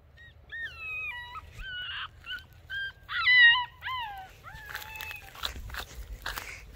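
Alaskan Malamute dogs howl and whimper through a fence in a series of long, wavering, rising and falling cries, several voices overlapping near the middle, followed by softer whines and shuffling sounds.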